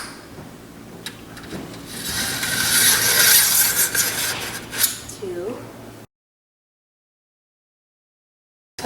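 A handheld sharpener rasping along a Weed Razer steel blade, a steady close scraping and rubbing that builds and fades over several seconds, then cuts to silence.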